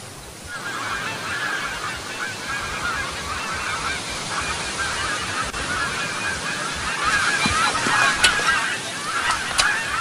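Goose-like honking calls from fowl, a run of nasal honks that grows busier and louder in the second half, with no talking.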